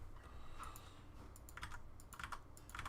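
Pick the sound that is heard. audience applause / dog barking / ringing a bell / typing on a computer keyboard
typing on a computer keyboard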